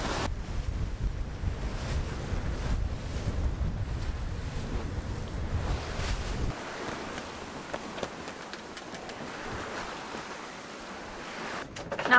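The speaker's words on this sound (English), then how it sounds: "Now we have like gale winds and winds coming on our beam." Gale winds blow on the beam of a sailboat at sea among steep waves: a steady rushing roar of wind buffeting the microphone and surf that eases partway through, with no talking.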